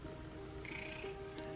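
A pet cat named Houdini gives a short, faint meow against a quiet indoor background, a thin rising call followed by a brief second chirp.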